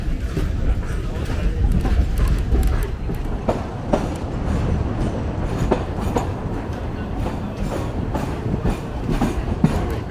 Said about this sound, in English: the train's just basically running down the middle of the street beside cars and stuff like that